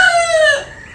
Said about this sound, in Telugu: చైనీస్ కోళ్ళు అంటాయి, అవి చైనీస్ సిల్కీ కోళ్ళు.